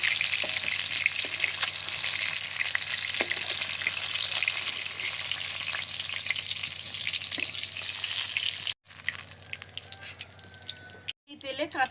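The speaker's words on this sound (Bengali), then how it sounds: "এই তেলে কাঁচা টমেটোগুলো ভেজে নেব।" Green tomatoes fry in hot oil with a steady, dense crackle and sizzle that fills the pan. The sound cuts out abruptly twice near the end.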